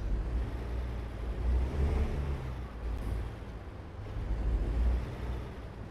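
Low, rumbling truck engine in a trucking video game, a steady drone that swells and eases gently as the vehicle pulls away, with a brief faint hiss midway and no speech.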